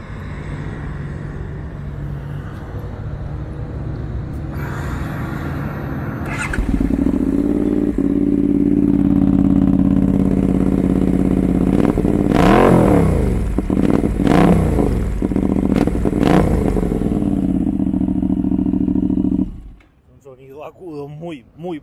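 Benelli 752 twin-cylinder motorcycle with its catalytic converter removed, engine roaring loud and close with several sharp throttle blips over a steady idle before cutting off; someone talks over the first part.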